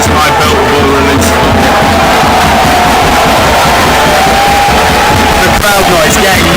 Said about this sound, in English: The crowd noise getting massive.